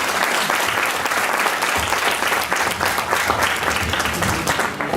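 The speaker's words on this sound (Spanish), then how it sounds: "pues le damos un aplauso y que empiece ya" Sustained audience applause for a lecture at an Egyptology conference, dense steady clapping from a crowd throughout without a break.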